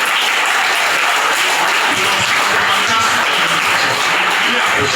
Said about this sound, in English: So I want you to give him a round of applause again.